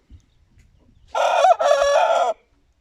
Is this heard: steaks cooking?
no